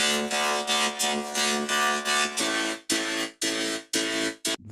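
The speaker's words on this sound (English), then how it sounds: "you get that really cool robot-y vocoder sound." Robotic vocoder effect applied to vocals in Ableton, heard as a dense, buzzy synthetic voice in choppy phrases with sharp gaps, loud and alone.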